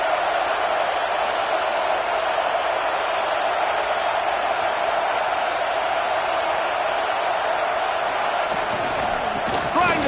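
A stadium crowd in a college football video game keeps up a steady, dense roar the whole time, with a slight swell near the end and a commentator talking over it.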